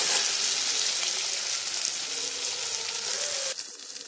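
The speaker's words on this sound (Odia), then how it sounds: "ତ ଆମେ ଟିକେ ଲୁଣ ପକାଇକି ପିଆଜକୁ ଖରାଡ଼ି ନେବା" Onions fry with salt in a pan for a cauliflower and fish curry, giving a steady close hiss of sizzling oil that drops off abruptly near the end.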